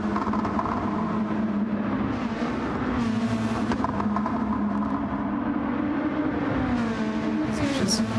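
Touring car engines roar steadily at close range in a Gran Turismo sim race at the Nurburgring, with a sustained high-revving drone, shifting pitch through corners and no talk over it.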